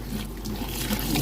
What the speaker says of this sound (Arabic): هنحط على البتنجان ميه